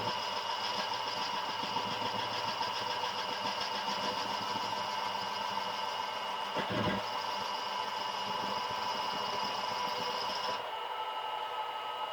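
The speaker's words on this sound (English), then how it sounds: "I am running about 200 RPM, and that is a brazed carbide tool in there." A Champion drill press runs steadily at about 200 RPM with a brazed carbide tool cutting, a continuous mechanical hum and whine with one brief knock partway through, close and without talk.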